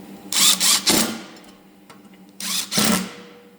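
Bolts on a Honda mower's engine brake being tightened with a power tool, in two separate bursts of buzzing ratchety whirring, each roughly a second long, with a quiet pause between.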